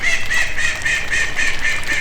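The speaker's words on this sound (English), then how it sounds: "But the ducks like it, and that's why I let them out." Ducks let out into a flooded, muddy vegetable garden after days of rain quack repeatedly in a rapid, overlapping chorus that stays loud and close throughout.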